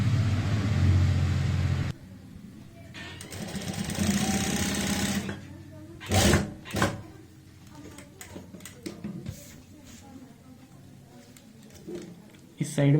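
Sewing machine stitching a folded border strip along the side of a garment, heard in a loud steady run at the start, then broken by handling noises and bursts of speech.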